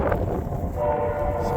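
A train rumbles past nearby on a cattle ranch with a steady low roar, wind noise buffeting throughout and a faint tonal horn-like line in the middle.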